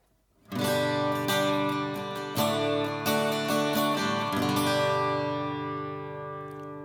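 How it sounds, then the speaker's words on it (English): Strummed carbon fiber acoustic guitar chords ring out with a lush, spacious reverb, the notes blooming and then fading slowly into a long tail. "So there you are, nice lush reverb, which just fills the room."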